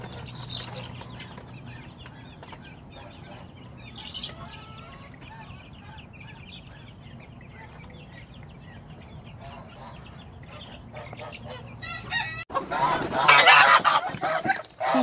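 Chickens, ducks and geese burst out of a large coop in the morning, geese honking and fowl clucking and quacking in a rising, crowded din that swells loudly near the end.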